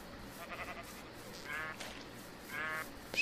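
Sheep in the video game Minecraft bleat faintly, two or three short wavering calls set against quiet game background sound.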